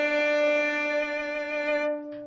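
A near 300-year-old Stradivarius violin sustains a single bowed note with rich, bright overtones, played alone and close, then fading out with a brief soft sound at the end.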